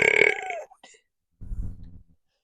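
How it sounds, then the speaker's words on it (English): A person lets out a loud, drawn-out burp that falls in pitch, then after a short pause gives a second, lower and rougher belch, both close to the mic. "I'm gonna try to see how many burps I can get."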